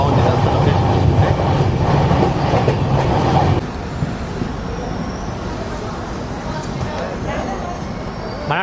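The Prashanti Express rolls along the rails with a loud, steady rumble and rhythmic clatter that drops to a lighter running sound partway through, while people talk over it.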